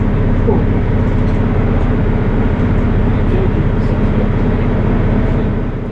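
Steady low rumble and rhythmic clatter of a GWR Class 166 diesel passenger train rolling along the track after leaving Southampton Central, loud and continuous throughout with no talking.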